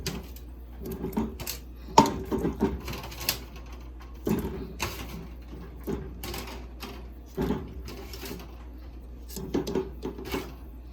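Potatoes, corn and eggs drop into a seafood boil pot as a few scattered, fairly quiet clunks and knocks, with near-silence between them.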